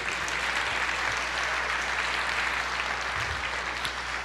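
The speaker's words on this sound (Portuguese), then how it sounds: "Você pode aplaudir o Senhor e dizer: eu creio" A church congregation applauds steadily throughout, a dense, sustained wash of many clapping hands filling the room at a fairly loud, even level without pause or spoken voices.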